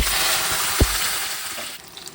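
Potatoes fry in hot oil with cumin seeds and a bay leaf, giving a continuous close sizzle with a soft clack of a utensil partway through. The hiss thins toward the end.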